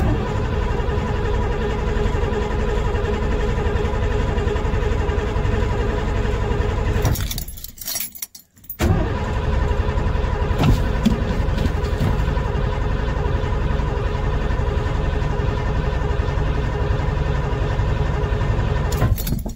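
A 1991 Ford F-150 engine cranking on a start attempt gives a loud, continuous droning churn that cuts out briefly midway and then resumes, with jingling keys.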